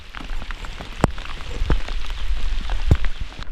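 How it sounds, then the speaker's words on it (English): Rain pattering steadily on surfaces around a kayak on a river, a dense close hiss of drops with a few sharper knocks, no talk. "it's raining, sure enough."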